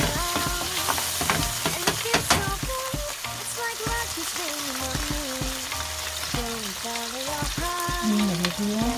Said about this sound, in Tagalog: Bawang niya. Igisa natin siya guys.